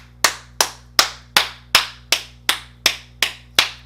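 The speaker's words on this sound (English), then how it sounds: "Let me get all my clapping out because I like to clap when I talk" Hands clap nine times in a steady, evenly spaced rhythm, each clap sharp, loud and close, with quiet gaps between and no voices.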